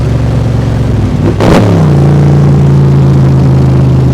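A 2020 Backdraft Cobra Iconic Edition roadster engine accelerating, heard loud and close from the passenger seat, with a steady low roar, a brief shift around the midpoint, then a deeper sustained drone.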